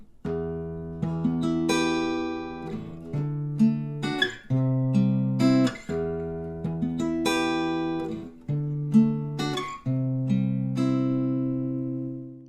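A guitar plays a song's intro alone, plucked notes ringing over low bass strings in a repeating phrase, clear and close.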